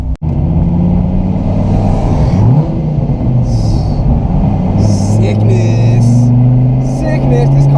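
A Dodge Viper SRT-10 V10 engine rumbles loudly and steadily beneath an overpass, its deep drone rising in pitch as it revs, with someone talking over it throughout.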